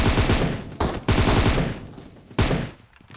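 Video game gunfire: rapid bursts of automatic shots in three loud volleys separated by short gaps, close and harsh.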